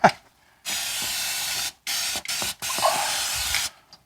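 Pam cooking spray hissing from an aerosol can into small Pyrex pans, in three sustained bursts with short pauses between, close and fairly loud, alone with no voices.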